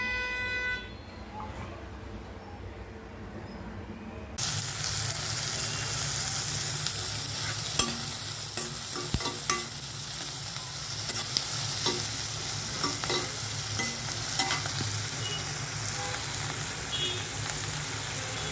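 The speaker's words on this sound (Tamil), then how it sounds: "நம்ம வந்து வெங்காயம் நல்லா வதக்கிக்கிடணும்." Onions sautéing in a pan for a methi keerai and moong dal dish, with a steady sizzle that swells louder partway through and close scraping stirs running throughout, with no one speaking.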